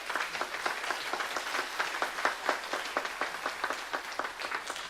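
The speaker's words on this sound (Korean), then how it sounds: "우리 서소영 도반에게 좀 박수 좀 쳐주시죠." A congregation at a Korean Won Buddhist dharma service applauds with steady, rhythmic clapping from many hands, fairly faint and distant, lasting several seconds without speech.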